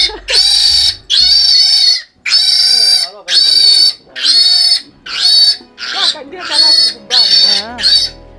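Pigs on a pig farm let out a series of loud, close, high-pitched squeals in repeated bursts of about half a second to a second, separated by brief pauses.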